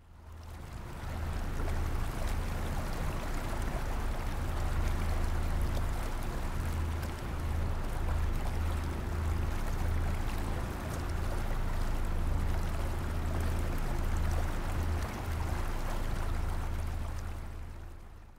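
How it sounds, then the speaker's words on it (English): Thai riverboat on the Mekong River, a steady low engine drone with continuous water rush and splashing along the hull, close and constant throughout with no voices. "this sound is the sound of a Thailand riverboat on the Mekong River"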